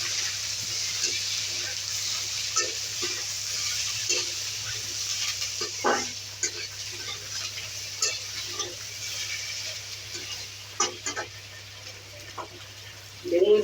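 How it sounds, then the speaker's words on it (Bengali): Eggplant pieces and browned onions fry in oil in a pan for a tilapia curry, giving a steady soft sizzle broken by scraping stirs and clinks of the spatula, with a voice speaking over it. "পেঁয়াজটা একটু লাল লাল ভাজা হয়ে গেছে। আমি বেগুনগুলো দিয়ে দিলাম।"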